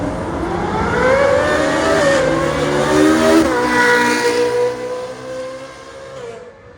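A McLaren 750 supercar revs loudly and close by, its engine note rising and holding high before easing off and fading toward the end, heard alone without voices.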